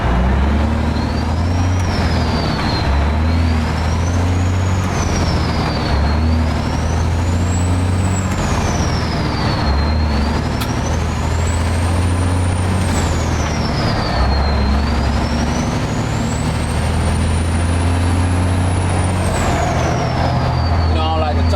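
A big truck drives at a steady heavy rumble and shifts through its gears, with the engine pitch climbing and dropping in repeated waves as each gear is worked through. Faint speech sits underneath.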